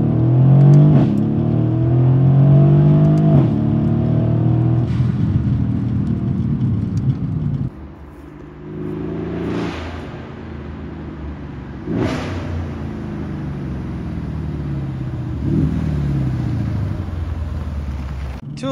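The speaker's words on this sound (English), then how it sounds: "You upshift at first, the exhaust pops and bangs," A Mercedes W218 CLS63 AMG roars through hard acceleration and upshifts, each shift dropping the engine note before sharp exhaust pops and bangs crackle out, with a whooshing release between pulls, loud and close.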